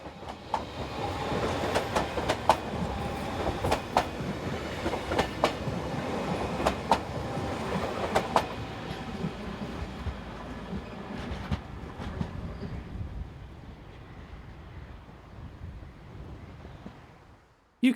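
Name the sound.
passenger train departing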